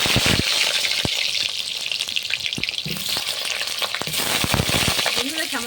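Potatoes frying in mustard oil in a wok give a loud, close, continuous sizzle full of crackling pops, broken by sharp scrapes and knocks as they are tossed and stirred.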